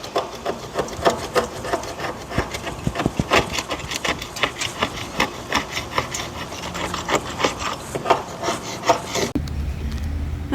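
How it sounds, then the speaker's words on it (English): An electric sander working wood during roof repairs, a steady buzzing rasp with rhythmic pulsing strokes, close and fairly loud, cutting off abruptly near the end. "get her to plug this extension cord in so I can use the sander"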